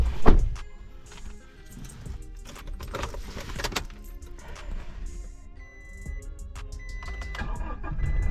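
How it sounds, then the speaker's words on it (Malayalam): A car left parked for two weeks is started: a thump and starter crank at the start, then the engine catches and idles steadily up close, with small clicks and rattles over the running engine. "2 ആഴ്ച നിർത്തിയിട്ടെങ്കിലും ഒരു പ്രശ്നമില്ല കേട്ടോ, വണ്ടി സ്റ്റാർട്ടായി"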